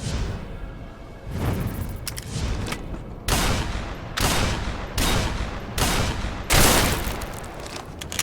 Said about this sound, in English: It's like an automatic shotgun, pretty much.